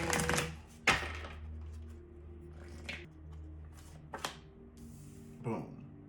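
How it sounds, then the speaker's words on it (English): A deck of tarot cards is shuffled by hand in several separate bursts of crisp riffling and slapping, close and moderately loud, with quieter pauses between them. "Let's give this a nice good shuffle."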